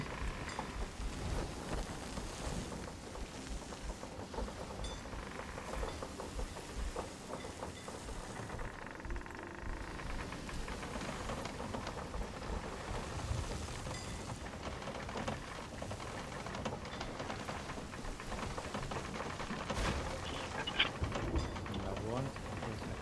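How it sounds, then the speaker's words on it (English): Storm weather in a sailing video game, with steady rain hiss and low rumbling thunder running continuously under the game's other sounds. "Okay, we can get out of the storm."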